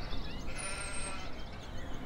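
Sheep bleat in a farming video game, a few drawn-out calls rising over a steady, busy bed of game ambience and machinery hum.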